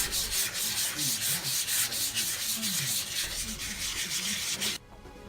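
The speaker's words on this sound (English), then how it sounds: "I used 180 grit sandpaper to smooth out the edges" Steady rhythmic 180-grit sandpaper rubbing on wood edges, back-and-forth scratchy strokes close up, stopping abruptly near the end.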